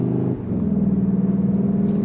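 Synthetic engine note played through the Beats audio speakers of a Cupra Formentor VZ 310 hp, a steady low droning hum with a brief dip near the start, loud and continuous.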